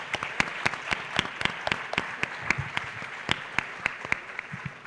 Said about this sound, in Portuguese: uma salva de palmas para a sua exposição